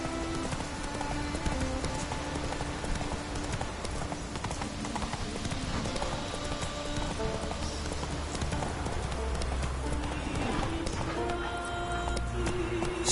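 Roach the horse galloping in The Witcher 3, a continuous rapid clip-clop of hooves running steadily for the whole stretch, loud and close, with light rain-like patter and game ambience underneath.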